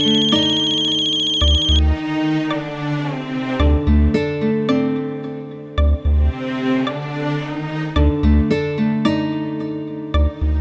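A mobile phone rings loudly and close with a melodic ringtone over a repeating thumping bass beat, the tune cycling continuously for several seconds with no talking over it.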